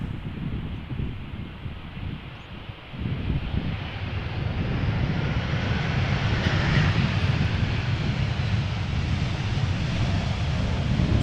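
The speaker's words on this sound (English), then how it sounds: "EasyJet A319 arriving from London Luton, and look at that, definitely a bit more crosswind. Is it going to commit to landing?" EasyJet Airbus A319 arriving from London Luton and touching down in a gusty crosswind at Amsterdam Schiphol's Polderbaan runway, a loud, steady jet roar that builds and holds, mixed with wind buffeting the microphone.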